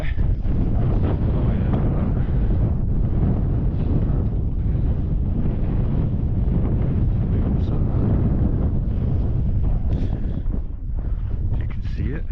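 Strong wind on an open mountainside buffets the microphone in a continuous low, heavy roar that surges and eases slightly without letup.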